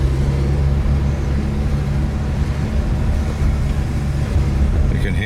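A 1970 Jaguar XJ6 with the 4.2 engine, cold after months unused, idles on choke with a steady low rumble close by while a voice talks over it.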